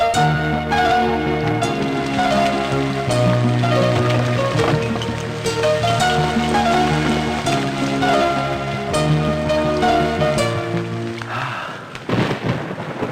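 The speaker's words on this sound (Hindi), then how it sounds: "बारिश बड़ी तेज हो रही है ना" Heavy rain pours down in a dubbed Indian feature film, a dense continuous hiss with rumbling underneath, mixed beneath a loud, tonal musical score that drops away near the end.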